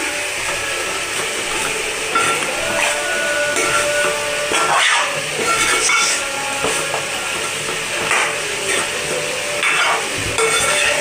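Mutton and chicken curry is stirred in a pot over the heat, a continuous close sizzle and hiss with repeated scraping strokes of the spoon against the pot, no talking.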